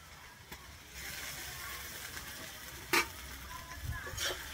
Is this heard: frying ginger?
yes